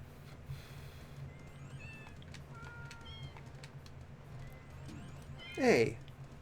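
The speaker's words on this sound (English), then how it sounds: "One Mike is a cat." A cat meows in the video game Deltarune, a short, loud cry near the end following quieter game chimes, with someone talking during the clip.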